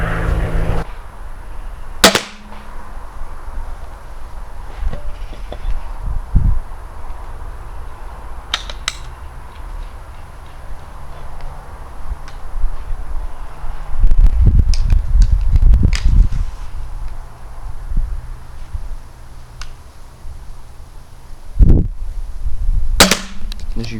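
Jandao Chacewind 150lb crossbow firing bolts, sharp snapping releases spaced apart with quieter mechanical handling noise and a faint background hum between shots.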